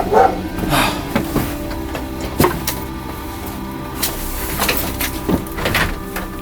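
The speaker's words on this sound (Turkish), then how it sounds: "Köpeğin sesi, hırlama sesi." A dog growls low and intermittently nearby at night, with scattered knocks and shuffling noises mixed in and no talking over it.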